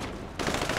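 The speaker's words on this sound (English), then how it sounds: "gunfire." Gunfire in the GTA V heist mission Blitz Play: after a quieter opening, a loud, dense burst of shots erupts and carries on steadily to the end, close and sustained like a firefight.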